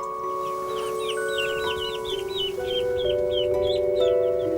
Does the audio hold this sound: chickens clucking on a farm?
yes